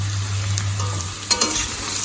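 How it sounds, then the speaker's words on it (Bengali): Potatoes and pumpkin frying in a pan produce a steady close sizzle under a low hum, broken by a couple of sharp utensil clicks and stirring scrapes near the end, with no talk. "এখানে আলু আর কুমড়ো ভাজি করছি"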